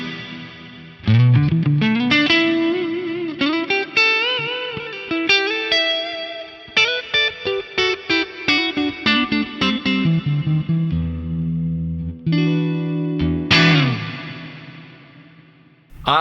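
An electric guitar played through an Axe-Fx III with a big, modulated reverb: distorted chords and picked lines shimmer and wash out, with a long swirling tail after each phrase, loud and alone.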